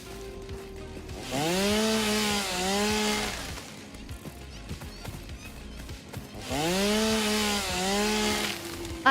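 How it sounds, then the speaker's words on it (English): A chainsaw cuts trees in the video game Satisfactory, revving in two loud bursts with rising and falling whines, separated by a quieter pause with scattered clatter. "Batch remove trees the fun way. With a chainsaw?"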